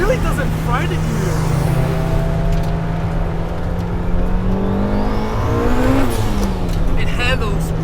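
A 400HP turbocharged B18C Honda Civic Si EM1 accelerates hard, its engine droning loudly and steadily with rising pitch through the revs, recorded close from inside the car.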